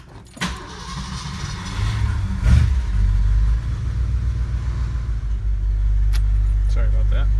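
A 1965 Lincoln Continental cranked over and fired with a little gas, a brief starter whir and catch, then a loud, steady low idle rumble close by, with a jangle of keys near the start.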